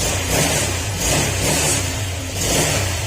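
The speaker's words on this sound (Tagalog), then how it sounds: "Okay, pag-rip natin ng konti." A Honda Click 150 scooter engine with a metallic knocking fault revs in a few short pulses, rising and falling close by over a low running hum.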